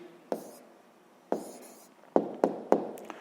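A math answer for a sixth-grade equation being written out by hand: a few quick scratchy strokes, close and clear, separated by short pauses in a quiet room with no talking.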